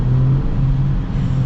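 2025 BMW X5 M Sport with its B58 engine accelerating, a steady, loud engine drone heard from inside the cabin in one brief, continuous pull.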